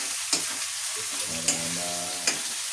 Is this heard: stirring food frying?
yes